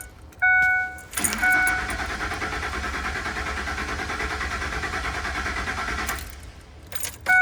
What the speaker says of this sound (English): here's what the crank and no start sounds like with the fuse removed